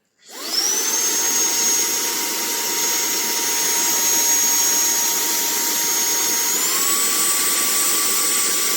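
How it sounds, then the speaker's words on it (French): A TANYO cordless 5-in-1 handheld vacuum cleaner starts up and runs steadily with a high whine, its pitch stepping up slightly near the end as it switches to second speed, close and loud. "Je vous fais juste entendre le bruit de l'aspirateur."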